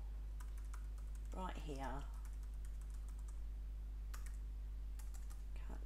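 Fingers type a web address on a computer keyboard, sparse clicks and quick key bursts through a quiet room, with a brief stretch of speech partway through.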